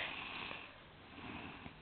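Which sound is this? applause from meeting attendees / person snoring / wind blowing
person snoring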